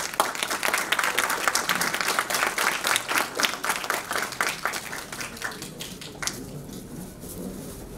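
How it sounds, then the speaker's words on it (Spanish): An audience gives a lecturer a round of loud, sustained applause at a university conference, with dense clapping that thins and fades toward the end. "para quien pido fuertes palmas"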